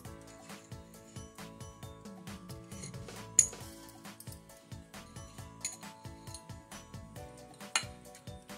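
Metal utensils clink and tap against a bowl or pot while cream cheese is mixed into stuffed squash with blue cheese, a steady run of light, close clicks and scrapes with a few sharper knocks.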